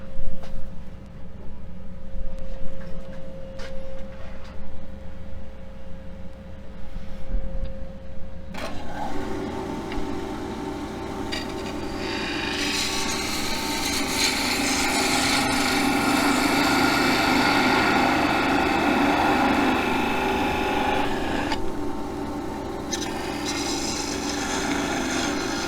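A wooden file handle parted off on a lathe, with a steady rubbing, scraping cut over the motor hum that grows rougher and louder as the tool bites in.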